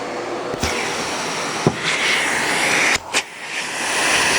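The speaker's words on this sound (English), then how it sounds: "Typical great Miele suction with the check bag indicator." A Miele S8 FreshAir canister vacuum cleaner runs with a steady, close rushing whoosh, broken by a few brief knocks and clicks as the hose moves, with no voices.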